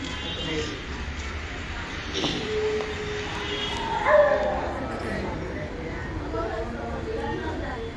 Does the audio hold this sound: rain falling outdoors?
no